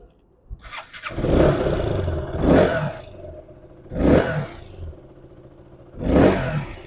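A used motorcycle in fresh condition idles nearby and is revved four times, each throttle burst rising and falling back to a steady idle.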